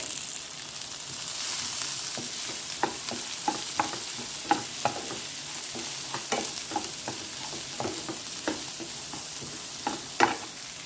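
Long-sliced medium onions fry in a pan with a continuous soft sizzle, punctuated by regular light taps and scrapes of stirring, close by and without any voices.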